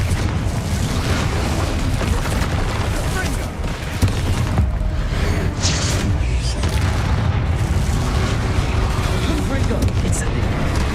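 Repeated Confringo fire-blast spell explosions in the Hogwarts Legacy game, a steady string of booming blasts and crackling bursts through the whole stretch, loud and dense with battle noise and some voice over it.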